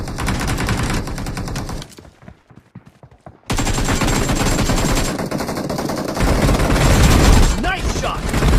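Sustained machine-gun fire in Battlegrounds Mobile, loud close bursts that pause for a second or so of near quiet before heavy firing resumes and continues to the end, with game voice and effects mixed in.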